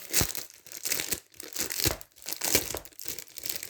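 A plastic sticker packet crinkles and tears as it is opened, in bursts of close crackling and rustling handling noise with no voices.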